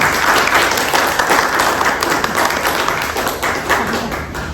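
An audience at a book launch applauds a speaker with dense, steady clapping that fills the room for the whole stretch, loud and close, with no one talking over it.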